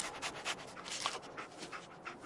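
In the video game Fallout 4, a dog sniffs and pants in quick rhythmic puffs, close and fairly quiet, with no talking over it.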